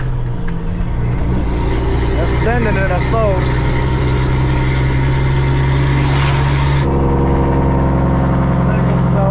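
A loud farm truck rolls down the road with its load auger out. The heavy engine rumbles steadily and shifts pitch partway through, and someone speaks briefly over the noise.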